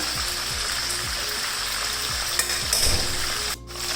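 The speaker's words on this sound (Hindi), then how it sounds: "1 टीस्पून के करीब मैं लहसुन और अदरक का पेस्ट डाल दूँ और चिकन को अच्छी तरह कर लेना है फ्राई" Chicken sizzles in a pan with garlic-ginger paste for a karela gosht curry, a steady close frying hiss broken by repeated scraping strokes of stirring, with no talk.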